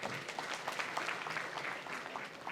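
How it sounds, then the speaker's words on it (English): Audience clapping at a political gathering in Uganda, a steady scattered patter of many hands at moderate distance, fairly faint and continuous throughout. "we should clap for him for that contribution"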